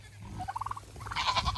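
A few short, wavering goat bleats sound close by, one after another, over a quiet outdoor background.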